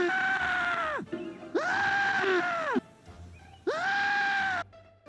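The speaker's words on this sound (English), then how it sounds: "What about a scream into a pillow?" A man screams into a pillow three times, each a long, loud, strained cry that cuts off before the next.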